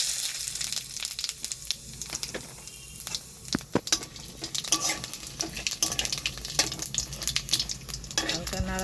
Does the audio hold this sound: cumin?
yes